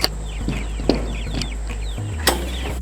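Chickens clucking softly in a backyard run beside a homemade trough, a few scattered clucks and short calls over a low steady hum, with occasional sharp handling knocks nearby.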